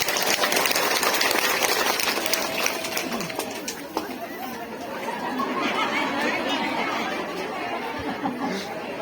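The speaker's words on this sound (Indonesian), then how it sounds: "tepuk tangan dulu dong buat tangan-tangannya" An audience claps at an evening Islamic study gathering in Pajaten village, Pangandaran, producing a dense, steady wash of applause mixed with crowd chatter that eases slightly partway through.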